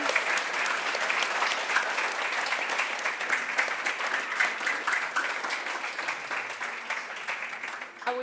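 Audience at a conference gives its panelists a sustained, dense round of clapping that fills the whole stretch at an even level, a large crowd heard from within the room.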